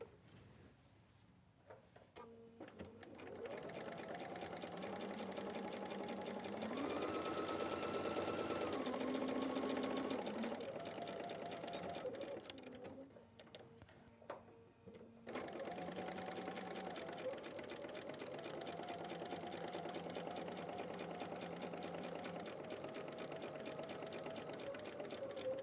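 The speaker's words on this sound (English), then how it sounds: "Then we'll come back and sew directly on this line." A sewing machine stitches a mini quilt, running steadily in long continuous bursts with a brief slowdown and pause partway through, then resuming at an even pace; no talking.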